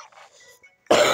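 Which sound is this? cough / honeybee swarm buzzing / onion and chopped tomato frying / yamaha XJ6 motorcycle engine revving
cough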